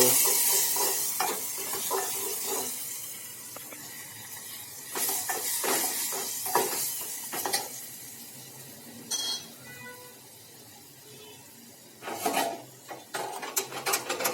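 Tomatoes, chillies, curry leaves and asafoetida sizzle in hot oil with cumin for upma, a steady close frying hiss broken by clinks and scrapes of a spoon stirring in the pan.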